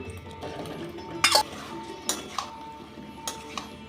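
Potatoes being stirred into chilli paste in a pan: a few sharp metallic scrapes and clinks of a spoon against the pan, spaced irregularly, close and fairly crisp over quiet background.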